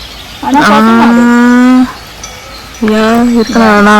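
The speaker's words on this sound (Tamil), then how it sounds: "என்னது மாடு தான்" A cow near Lac Noir in Fribourg, Switzerland, gives a long, loud moo, then two shorter moos after a pause, close by and clear.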